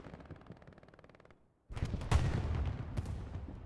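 Dense gunfire from the Hell Let Loose World War II shooter, with a short stretch of quieter shots, a near-silent gap, then a loud, sustained burst of overlapping rifle and machine-gun fire.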